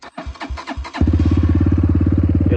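An SSR pit bike with an electric start button cranks in several short bursts. It then catches and settles into a close, fast, throbbing idle.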